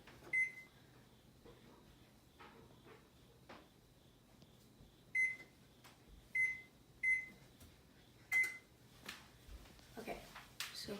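An oven's control panel gives a series of short, sharp electronic beeps, set here to 325 degrees while baking frittatas. Several single beeps are spaced irregularly over the stretch, with key presses, faint handling noises and quiet room background between them.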